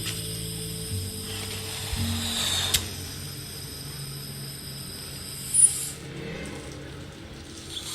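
A gas valve is turned on in L.A. Noire, heard as a loud close ratcheting mechanical clicking that is followed by a faint hiss and a brief squeak, over a low game music bed.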